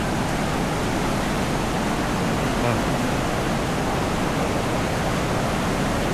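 Swollen flooded river in Padang rushing as a steady, loud broadband roar that fills the whole stretch, with a brief word of speech over it.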